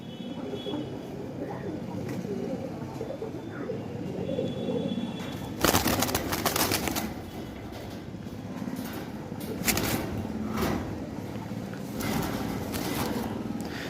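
Madrasi pigeons coo softly at close range in a pigeon sale setting in Kolkata, low murmuring calls under steady background noise, interrupted midway by a loud rattling clatter and several sharp bursts, with some faint talk.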